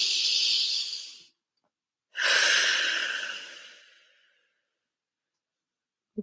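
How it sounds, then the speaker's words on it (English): A slow, deep breath during a guided tapping exercise: one long audible inhale, a pause of near silence, then a long breathy exhale that fades out, close and alone, followed by a brief soft click. "Deep breath."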